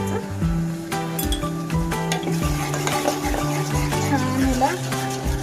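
A spoon stirs and clinks against a pan as tomato puree fries in oil for chole, a steady sizzle beneath the scraping, while someone talks over the cooking.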